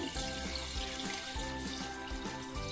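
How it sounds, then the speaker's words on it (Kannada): Rice-soaking water is poured into a cooking pot for chicken biryani, a steady close splashing pour with a faint sizzle underneath and no voices. "ಅಕ್ಕಿ ತೊಳೆದು ನೆನೆಸಿಟ್ಟಿದ್ದ ನೀರನ್ನ ಇದಕ್ಕೆ ಹಾಕೋತಾ ಇದ್ದೀನಿ"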